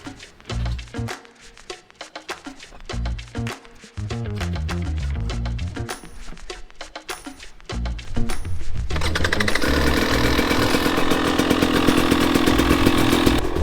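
A vehicle engine warming up on a Big Cypress camping trip, loud and close, sputtering unevenly before settling into a steady, dense, buzzing idle.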